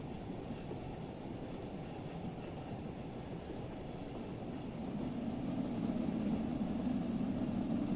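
Steam locomotive running on the Peak Forest Railway, a UK route in Train Sim World 3, heard from outside as a steady, noisy low rumble that swells louder toward the end, with no talking.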